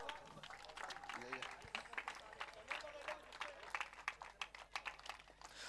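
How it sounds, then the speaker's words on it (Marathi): Scattered clapping from an audience at a prize distribution for a youth championship, faint and uneven, mixed with crowd murmur and someone talking nearby. "चला एकदा जोरदार टाळ्या वाजवा."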